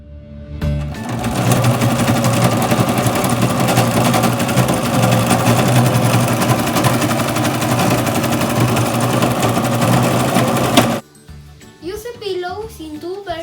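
A sewing machine stitches in one loud, steady, continuous run for about ten seconds, then stops abruptly and a voice speaks.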